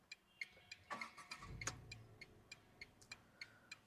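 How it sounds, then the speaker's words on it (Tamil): A Tata Tiago Facelift hatchback starts up as heard from inside the cabin: a faint crank and low engine catch, then a muffled idle, with regular soft ticking clicks running throughout. "ஜஸ்ட் நான் உங்களுக்கு கார் ஸ்டார்ட் பண்ணி காமிச்சிடறேன்"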